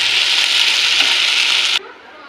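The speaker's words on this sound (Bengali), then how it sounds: "ভাজিটা আর একটু নেড়ে চেড়ে নিই" Okra bhaji fries in a pan with a loud, close, continuous sizzle while being stirred, then cuts off sharply to a quieter hiss near the end.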